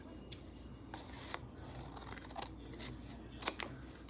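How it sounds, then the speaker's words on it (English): Scissors snip through a strip of craft material with several quick, light cuts in an irregular rhythm, close and quiet over a faint background hum. "Let's cut that off."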